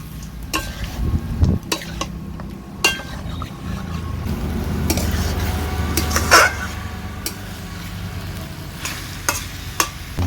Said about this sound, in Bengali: সব কিছু ভালো করে নেড়ে চেড়ে নেবো